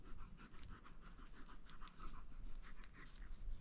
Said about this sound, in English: I brought my dog out, so we'll see if it bothers him.